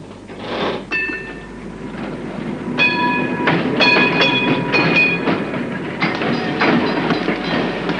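Tram ride through Buenos Aires streets, with steady rumbling rail noise, rhythmic clatter of wheels over joints and bright squealing metallic tones rising and fading throughout.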